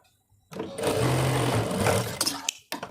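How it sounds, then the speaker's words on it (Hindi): Sewing machine stitching a pocket on palazzo pants, running steadily for about two seconds after a quiet start, then stopping and briefly restarting with short bursts, close and loud. "इसके ऊपर भी हम सिलाई लगा देंगे।"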